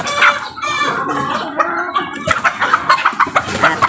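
Roosters and hens in a backyard flock cluck loudly and close by, and the calls grow into rapid, rhythmic clucking toward the end.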